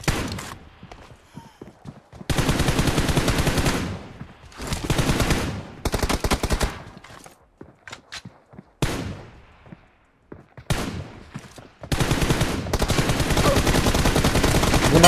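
Gunfire in a shooter game comes in dense bursts of rapid shots, loud and close, separated by short quiet gaps, with a few single isolated reports between the longer volleys.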